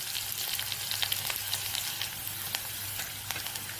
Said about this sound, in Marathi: त्यामध्ये मी मोहरी टाकली, त्यानंतर हिरवी मिरची आणि लसूण हे छानपैकी परतून घेऊ।